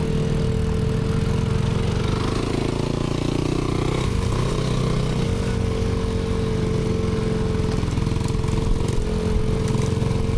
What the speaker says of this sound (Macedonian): Јас сум со 50 кубици, бе, планински мотор е ова